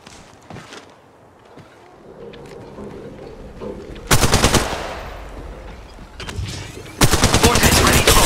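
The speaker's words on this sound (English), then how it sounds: "Taking fire. Down. Firing on subjects." Rapid bursts of machine gun fire in a video game, quieter shots early on, then loud sustained automatic volleys near and in front, with a pause between the two long bursts.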